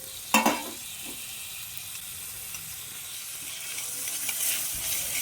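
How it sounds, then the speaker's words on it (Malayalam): Chopped tomatoes and onions sauté in a pan with a steady, soft sizzle. A sharp scrape of stirring comes near the start, followed by a quieter spatula touch, and the frying hiss continues alone. "അപ്പോൾ തക്കാളിയൊക്കെ ചേർത്ത് നന്നായിട്ട് ഒന്നുകൂടെ വഴറ്റിയെടുക്കാം"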